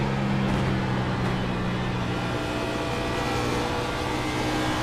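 Onboard race car engine at Dover in an iRacing Cup Series sim race, a steady sustained drone holding constant pitch throughout, close and continuous with no talk.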